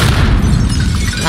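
A grenade blast in Call of Duty: Modern Warfare lands as a loud, heavy boom with a dense low-end rumble that fills the whole moment, with no voices over it.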